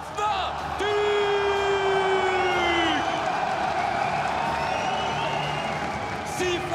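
A crowd at a League of Legends esports semifinal in Paris applauds and cheers loudly and continuously, with whoops rising over steady clapping while a voice speaks over the noise.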